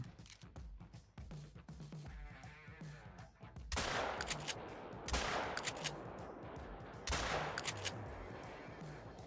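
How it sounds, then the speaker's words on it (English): Shotgun fire during pheasant hunting in a video game set in a park reserve, with a rapid volley of sharp cracks followed by three louder bursts spaced a couple of seconds apart and a faint voice in the background. "That was not good shooting."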